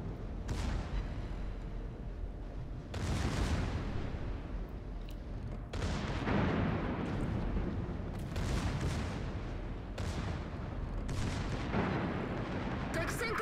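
Secondary guns on the Giuseppe Verdi warship in World of Warships fire in repeated booming salvos, each a sharp blast with a rumbling tail, spaced a few seconds apart over steady engine and sea noise, with a voice talking throughout.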